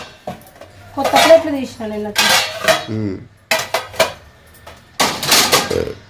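Pots, pans and dishes clank and clatter in bursts as they are handled and washed at home, mixed with people talking throughout.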